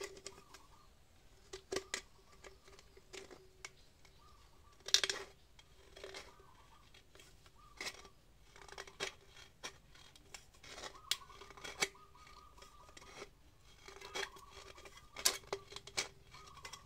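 Scissors snip through a thin metal aerosol spray can, giving quiet, close, irregular crisp clicks and scrapes spread over several seconds, with faint metallic rattles between cuts.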